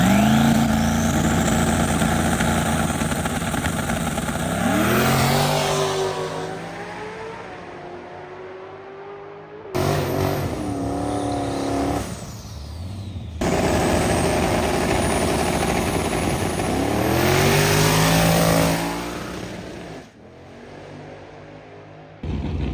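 Twin-turbo Chevrolet S10 drag truck accelerating hard through the gears on a pass, a loud, close engine roar climbing in pitch several times with brief drops at the shifts before fading off.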